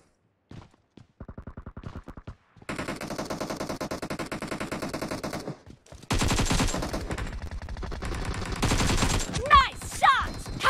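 Rapid automatic gunfire in PUBG Mobile's Demolition mode, long bursts of loud close shots in quick rhythm, starting with sparse single reports and building into sustained heavy firing, with brief pauses between volleys.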